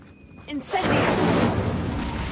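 A fire spell cast in a video game flares up after a brief quiet moment as a loud, roaring whoosh of flame that swells and keeps burning steadily to the end.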